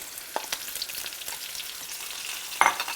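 Potatoes, eggs, sausage, peppers and onions fry in a pan with a soft, steady sizzle, with occasional stirring clicks and scrapes close by.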